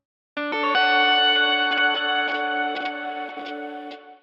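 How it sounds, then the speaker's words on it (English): Guitar pickup selector scratches used as glitch effects, sounding as sharp clicks that break through sustained, chorus-heavy chords ringing out with effects. "I noticed scratching noises that I tried to use while playing chords to create glitching effects"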